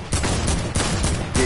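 Rapid pistol shots in Fortnite, a quick run of about five sharp, loud close-range cracks in steady rhythm.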